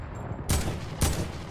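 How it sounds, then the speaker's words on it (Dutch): Two distant gunshots crack in a video game about half a second apart, each a sharp burst over a low steady background hum. "ik hoor daar schoten"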